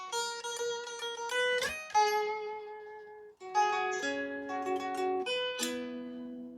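An electric guitar riff of clean, ringing picked notes and chords, played alone with short pauses between phrases, moderately loud and close.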